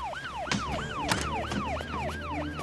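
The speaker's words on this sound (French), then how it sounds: "C'est une ambulance et elle vient ici." An ambulance siren wails in a steady, repeating rising-and-falling pattern, loud and continuous, with faint background noise beneath it.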